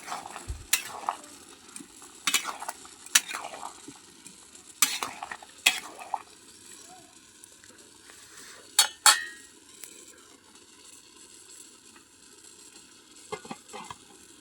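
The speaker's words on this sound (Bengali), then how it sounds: "এদিকে কড়াইয়ে এঁচোড়টা সিদ্ধ হচ্ছে," Green jackfruit is stirred in a wok, with scattered scrapes and metallic clinks from a utensil against the pan over a faint background sizzle, the bursts coming irregularly and close by.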